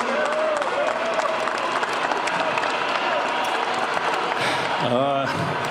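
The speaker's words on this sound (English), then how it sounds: "Normally the applause is much louder" Steady crowd applause at a Los Angeles Lakers celebration after clinching a place in the NBA Finals fills the space, dense clapping continuing throughout while a voice speaks over it near the end.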